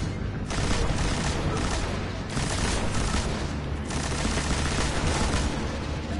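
Rapid gunfire from a weapon in the video game Destiny rattles in continuous bursts, loud and close, with brief pauses between volleys and no talking over it.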